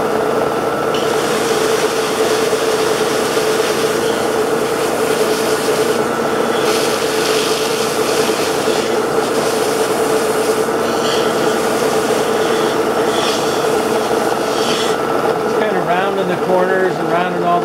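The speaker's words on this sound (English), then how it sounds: "Next step is taking the piece of wood and go ahead and put it on the sander." A wood piece for a jeweler's bench pin is sanded on a powered sander, giving a steady, continuous abrasive whir and rasp at close range that holds without a break from start to finish.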